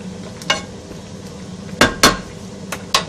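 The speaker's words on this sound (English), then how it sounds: "We're stirring it and we're returning it to the boil." Chunky steak chili is stirred in a pot on the stove, a spoon knocking and scraping against the metal in a few sharp clinks over a soft background simmer.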